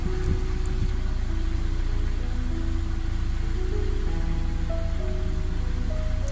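A Mercedes W124 engine idling, a steady continuous low rumble heard close and loud, with a faint tone drifting slightly in pitch, and no talking.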